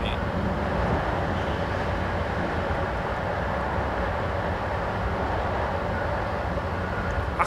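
Steady rumbling rail noise from a BR 10 locomotive in Train Simulator 2014 on the Köln–Düsseldorf line, a continuous loud rolling and clattering of the train bouncing over the track with no talk.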